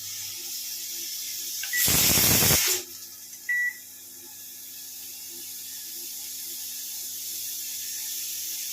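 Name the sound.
pressure cooker whistling while cooking mutton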